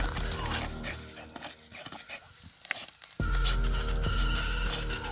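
A dog scrabbles and shuffles about while digging in the ground, with sniffing and panting-like bursts, a quiet patchy stretch, then a sudden loud, rumbling close-up burst of movement.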